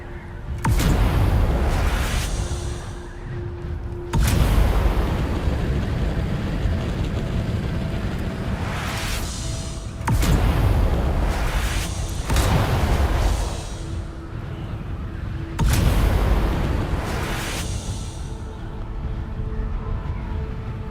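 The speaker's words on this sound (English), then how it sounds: "It's kind of a short explosion, but it's going on a long time." A long, drawn-out explosion at a shipwreck in the video game Dune Awakening: heavy roaring blasts that start suddenly, swell, and then repeat every few seconds in loud, sustained rumbling waves.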